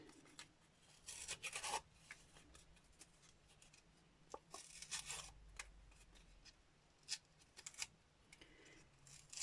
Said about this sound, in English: And I'm just going to curl the edges. And rip them.